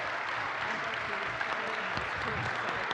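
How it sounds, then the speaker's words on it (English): A church congregation applauding during an Easter Sunday service: a dense, even wash of clapping that holds steady for about three seconds, moderately loud and filling the room. "So I think we owe them a big hand of applause."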